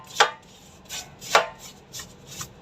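Something is scrubbed with a brush before soaking in soap, giving about five short, crisp, bristly strokes at uneven intervals, close and alone with no talk.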